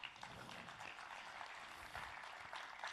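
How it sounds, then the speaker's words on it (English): Audience at a developer day event clapping for a speaker named Bernard, a steady, fairly faint spread of applause from a crowd. "a round of applause,"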